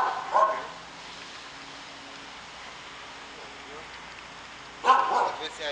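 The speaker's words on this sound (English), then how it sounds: "There's dogs in their rooms barking over there." Dogs barking in kennel rooms during dog training, two short bursts of barking at the start and near the end, moderately distant over a quiet background.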